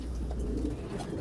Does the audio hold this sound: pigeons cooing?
yes